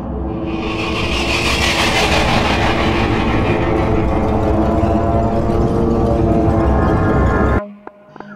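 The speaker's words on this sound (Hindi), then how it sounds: "अब मुझे सिर्फ अपनी तरफ बढ़ती हुई ट्रेन की आवाज सुनाई दे रही थी।" Train in a metro horror story rolling along the tracks, a loud, steady rumble with rhythmic clickety-clack and metallic ringing that holds for over seven seconds, then cuts abruptly to near silence.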